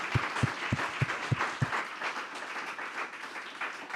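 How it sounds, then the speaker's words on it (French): An audience applauds at the Prix de la Donnée award ceremony at the Mêlée Numérique 2021, with a dense crowd clapping and a few distinct loud claps near the start. The applause is moderately distant and sustained for several seconds. "Je souhaiterais qu'on applaudisse à nouveau Laïssa."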